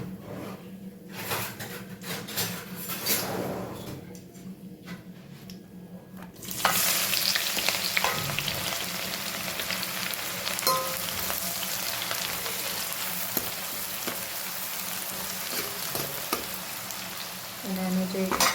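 Red chili, bay leaf, star anise, cloves and green onion fry in hot oil, a steady close sizzle that swells sharply partway through and continues with faint stirring scrapes.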